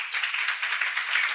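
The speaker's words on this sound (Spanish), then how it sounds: "Un aplauso, por favor." An audience at a talk claps for the arriving speakers, a short run of close, bright, fairly even clapping.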